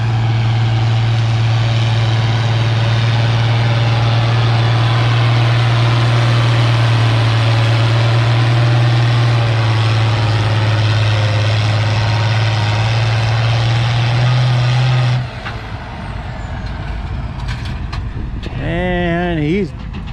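Farmall 806 tractor at a fall tractor pull in Lynden, its engine droning loud and steady with a strong low hum for about fifteen seconds before cutting off abruptly, leaving ambient noise and a brief rising whine near the end.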